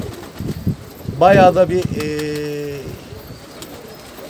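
Pigeons in a large breeder's flock coo in low, steady notes nearby while someone talks over them.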